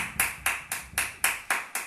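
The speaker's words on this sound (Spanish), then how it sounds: "Denle un aplauso al Señor en esta noche." Church congregation clapping in a steady rhythm during an evening service, about seven evenly spaced, crisp claps, close and moderately loud.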